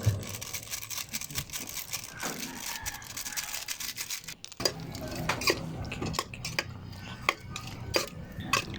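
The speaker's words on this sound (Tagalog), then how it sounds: "Halo-haloin lang po natin" A utensil scrapes and clatters around a metal cooking pot while pinapaitan is stirred, giving repeated close rattling strokes with brief pauses, and no talk.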